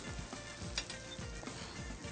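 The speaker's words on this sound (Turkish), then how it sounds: "şöyle soğanımız yağımızda bir kavrulsun bakalım" Onions sizzle steadily as they sauté in olive oil in a pot, with soft scraping stirs and light clicks of a utensil; no talking.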